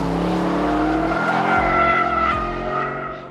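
An Aston Martin DBX, a 2.2-ton SUV with a center differential able to send all power to the rear wheels, drifts with a loud engine roar and tires squealing and skidding, the note rising and then easing off.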